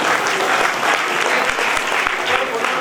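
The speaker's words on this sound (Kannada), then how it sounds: "ಜೋರಾಗಿ ಚಪ್ಪಾಳೆ ತಟ್ಟುವುದು." Loud applause from a crowd at a gathering for a religious figure in Kalaburagi, dense and continuous clapping throughout with a few sharper individual claps standing out.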